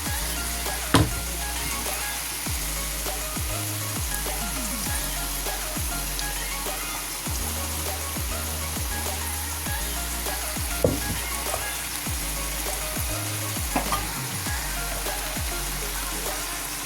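Saltfish sizzling and frying in a pan, a steady bright crackle with occasional spatters and a couple of louder clinks, close by with no talking.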